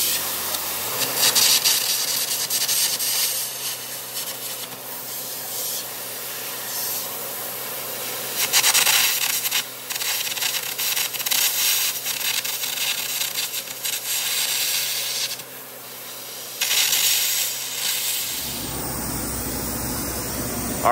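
Air arcing cuts welds off steel brackets on a snow basket during a hybrid coupler install. It makes a loud, continuous roaring hiss of compressed air and sputtering arc in long bursts that stop abruptly near the end.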